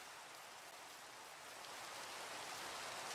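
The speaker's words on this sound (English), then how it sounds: "You know it's a night for combat when it rains like this." Steady rain falls in Minecraft, a soft, even hiss of countless drops holding at constant low volume with no talk.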